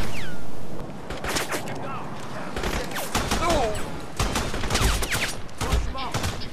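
Rapid bursts of military rifle and machine-gun fire in the shooter game Crysis, loud and repeated with crackling echoes, running under someone talking throughout.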